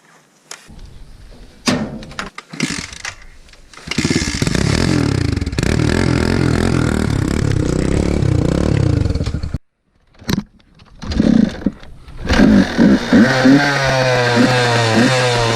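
A motorbike engine cranks and catches in short bursts, then revs hard in a long loud run, cuts out briefly, and roars back up with rising revs, close by.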